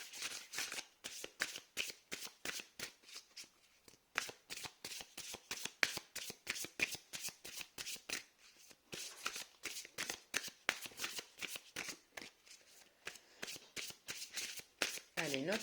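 Oracle cards are shuffled by hand in quick, crisp bursts. The riffles are close and quiet, repeating steadily with brief pauses between them.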